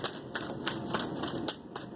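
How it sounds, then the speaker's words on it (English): A large tarot deck is shuffled by hand, producing a fast run of crisp, regular card flicks and riffles, close and alone without any voice. "This is a really large deck here, and it's kind of hard to shuffle."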